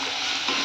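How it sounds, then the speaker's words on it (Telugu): Fenugreek leaves with their stems frying in a pan give a steady, continuous sizzle with a bright, crackling hiss that holds level throughout, close and alone. "ఇది పచ్చివాసన పోయేంత వరకు ఫ్రై అవ్వాలండి."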